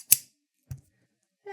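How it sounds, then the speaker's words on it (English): Scissors give two separate snips about half a second apart, a sharp bright cut followed by a duller one, in a quiet room; a voice starts to sing just afterward. "This knife, which is actually scissors."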